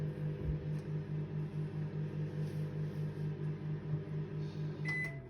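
A Panasonic NN-ST25HBZPE microwave oven hums steadily with a pulsing low drone, running continuously at close range while heating water, with a brief high tone near the end.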